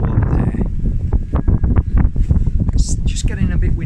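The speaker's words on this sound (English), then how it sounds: "It's just getting a bit windy now, so I hope that you can still hear me" Gusty wind buffets the microphone with low rumbling bursts while a person talks over it.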